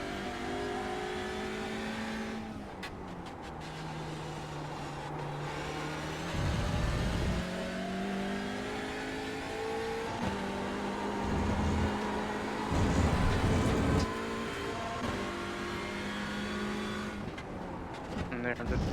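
A racing car in a racing video game accelerates out of a tight corner onto the runoff, its engine note climbing and revving steadily through gear changes, loud and continuous over nearly twenty seconds.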